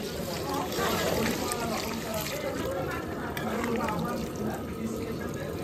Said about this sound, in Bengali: মাংস কষানো হয়ে গেছে, এখন আমি জল দিয়ে দেবো।